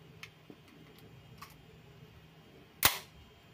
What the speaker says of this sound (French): on va mettre la cartouche laser directement dans la chambre